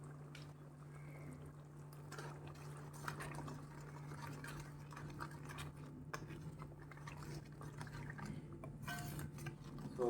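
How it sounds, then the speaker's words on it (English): Sugar and jaggery syrup for a Goan sweet mango pickle simmers steadily in a pan, a soft continuous bubbling hiss with a low steady hum underneath and faint occasional clicks, no voices. "Let this simmer for a while."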